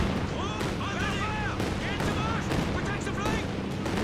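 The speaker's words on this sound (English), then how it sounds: "And here comes a Calliope barrage." Calliope rocket artillery barrage in the World War II strategy game Company of Heroes 2, a continuous dense roar of rapid launches and blasts with whistling rocket streaks through it, loud and sustained throughout.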